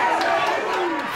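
Boxing fight night crowd of local business people, boxing fans and gang members in Auckland, New Zealand, keeps up a steady, loud roar of cheering and shouting with no pauses.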